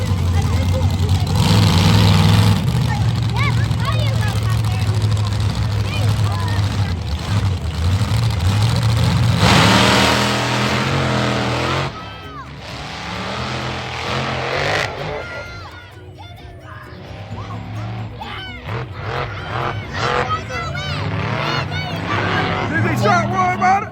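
Monster truck engines rumble and idle at a Lakeside, California monster truck event, a loud heavy drone under crowd chatter and nearby voices talking throughout.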